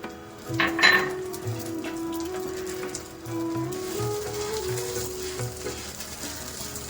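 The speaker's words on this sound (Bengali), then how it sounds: "চালটি একটু নাড়াচাড়া করে নেব" Gobindobhog rice being stirred in hot ghee in a wok, a steady close sizzle with soft scraping strokes, a brief louder burst near the start, continuing without talk.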